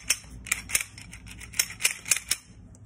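Glock 17 pistol being function-tested after cleaning, a series of sharp, crisp metallic clicks and snaps, close up and irregularly spaced, with no talking.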